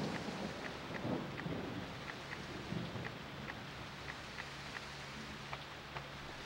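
Thunderstorm in the video game Jurassic Park: Operation Genesis: steady rain hiss with low rumbling thunder swelling near the start, plus scattered faint drip ticks throughout, no voices.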